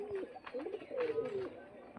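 Rooftop pigeons, frightened by a hawk flying overhead, give several low rolling coos in close succession, soft and near against quiet background noise.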